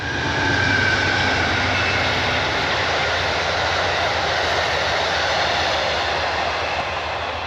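An Amtrak Downeaster train rolls past on tracks right beside a campsite, a loud, steady rumble and rush of wheels and wagons filling the whole stretch without letup, with no voices.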